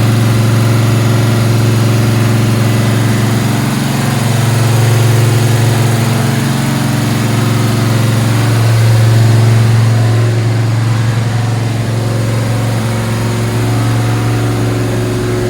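A flat tappet Gen 1 small block Chevy V8 runs steadily on an engine dyno, giving a loud, continuous, rumbling idle with slight rises and dips and no other sounds.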